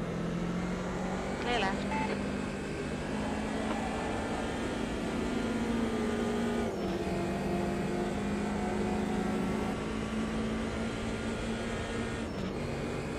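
A BMW 2002 Turbo with a 2-litre turbo engine races in Automobilista 2 at Monza, its engine note humming steadily with shifting pitch, faint under someone talking throughout.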